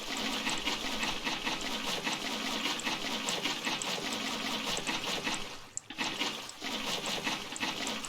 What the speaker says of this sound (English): So we'll take these out and I'll add some water in there.